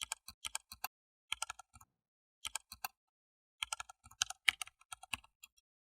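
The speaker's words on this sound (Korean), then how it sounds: "그분이 가르쳐주신 아이디 비밀번호를 입력해 보았는데요" Keys on a computer keyboard clatter as a login ID and password are entered, quick irregular clusters of close, quiet taps separated by short pauses, with no voices.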